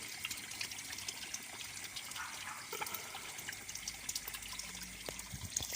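A homemade DIY skimmer made from a child's toy sucking surface water in a fish pond, a faint steady trickling and gurgling flow with small splashes, no voices.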